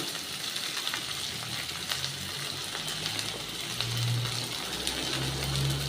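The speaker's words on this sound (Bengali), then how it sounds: "রসুন সব কিছুই আমি এখন এই তেলের ওপরে সুন্দর করে ভেজে নেব" Steady sizzling of garlic and spices frying in hot oil in a wok, continuous and close, with faint clinks and no voices.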